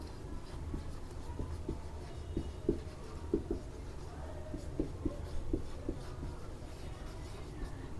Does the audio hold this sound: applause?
no